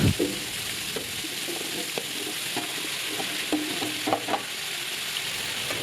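Shrimp and mixed vegetables sizzling in a hot pan while being stir-fried, a continuous close frying hiss punctuated by scattered scraping and clinking of the stirring utensil.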